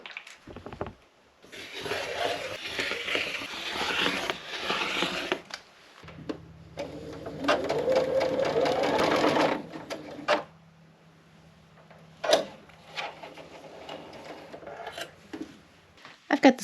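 A sewing machine sews quilt fabric strips in short bursts of whirring stitching separated by pauses and handling noises, with a low hum during the longer run.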